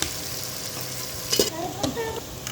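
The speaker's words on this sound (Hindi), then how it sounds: "इस प्याज को आपने अच्छे तरीके से फ्राई कर लेना है" Chopped onions frying in hot oil with salt in a pan, a soft steady sizzle with a few brief stirring scrapes and clinks, fairly quiet and close.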